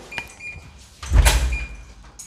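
A hotel room door at a beach resort in The Gambia is pushed fully shut, a loud thudding close with a brief mechanical rattle, near and alone after a faint high beeping tone stops.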